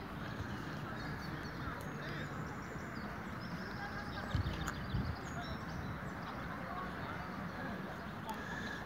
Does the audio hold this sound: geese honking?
yes